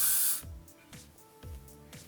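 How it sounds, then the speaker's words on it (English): A quick burst of Elnet hairspray hisses loudly onto a section of hair while an updo is styled. Softer handling rustles and faint taps follow the spray. "I'm just going to spray each section. And this is just the Elnet hairspray"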